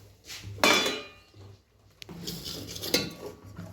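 A metal lid placed over a cooking pot on a gas stove after the flame is turned off while making rice-flour pitha: a few close, sharp metallic clanks and scrapes in a quiet kitchen.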